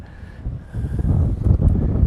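Steady gusty wind buffets the microphone at Honolulu airport, a low rumbling roar that swells louder partway through and stays strong.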